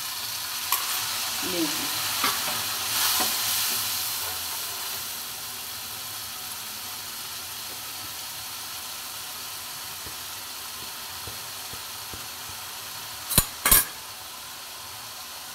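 Spices frying in a pan with a splash of water for spinach kofta curry, a steady low sizzle and hiss running throughout with a few faint stirring scrapes, a brief spoken word early and sharper clatters near the end.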